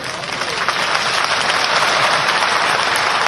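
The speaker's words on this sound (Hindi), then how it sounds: "ताली जरा कम बची भाई इससे।" A large crowd at a foundation-stone ceremony in Amarkantak breaks into sustained, loud applause, a thick continuous roar of many hands clapping that holds steady throughout.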